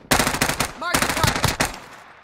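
Bursts of rapid automatic gunfire in a video game, loud and close, with a short pause mid-clip before another sustained volley of shots that tails off at the end.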